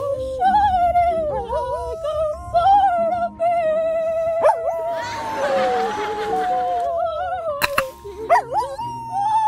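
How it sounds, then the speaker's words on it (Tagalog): A dog howls and whines in long, wavering tones, with a few sharp yips and some background noise mixed in. "natutuwa yung aso, naririndi na eh"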